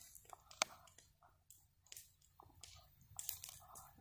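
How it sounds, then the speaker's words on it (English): A dog gnaws on a cedar stick close by, with irregular crunching and clicking bites scattered over several seconds while soft whispered voices murmur quietly underneath. "I just can't believe people would watch that long into a dog chewing on a stick."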